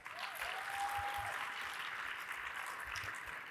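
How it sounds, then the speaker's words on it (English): Audience round of applause at a Payroll Congress keynote: soft, even wash of many hands clapping from a large crowd, distant and faint, sustained without a break. "Give yourselves a round of applause"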